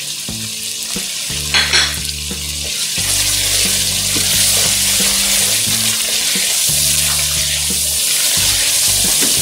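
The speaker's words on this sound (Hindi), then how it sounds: "तो इसको भी हम तकरीबन 2 मिनट तक फ्राई करेंगे" Mutton and potatoes fry with garam masala for aloo gosht, giving a loud, steady sizzle with occasional stirring clinks over a low hum. No one speaks.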